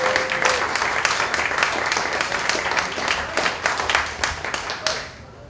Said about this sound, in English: So acknowledge yourself with a round of applause.